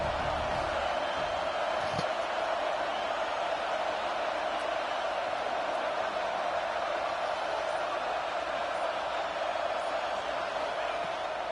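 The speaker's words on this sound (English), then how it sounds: "This crowd ready to make its presence known." Football stadium crowd noise, a constant distant roar that holds at an even level throughout with no distinct cheers or peaks, a steady band of murmur filling the space.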